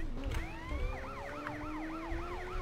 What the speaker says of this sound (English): I just keep the siren on.